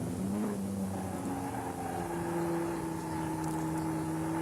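A production saloon race car brakes hard into Druids at Brands Hatch in a 1988 Uniroyal championship round, engine tone falling steadily over other racing cars' engines, loud and close throughout.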